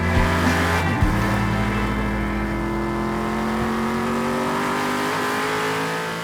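Lingenfelter Camaro race car idling up close, a loud, deep, rumbling engine and exhaust drone with a brief throttle blip early on, then a steady, heavy, shaking burble throughout.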